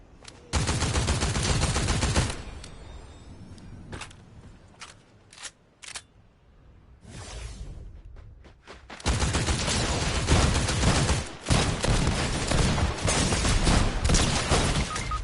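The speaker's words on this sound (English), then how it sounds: "I'm literally getting shot by someone who's locking onto me." Rapid gunfire in a video game, bursts of shots hitting the player, loud and sustained at the start, thinning to scattered single shots mid-clip, then heavy continuous firing again.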